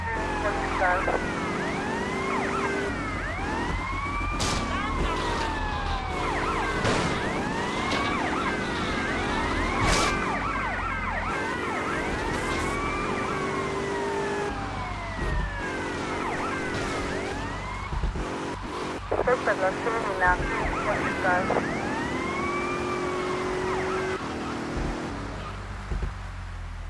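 Police car siren from the video game GTA Vice City wails in repeating rising and falling sweeps over game engine and street noise, steady and moderately loud throughout, with occasional radio chatter.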